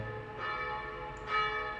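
A church bell sound effect in an Unreal Engine game scene: a soft, ringing tone with sustained overtones that swells gently, then strikes again more brightly near the end.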